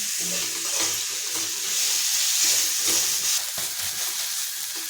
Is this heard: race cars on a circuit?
no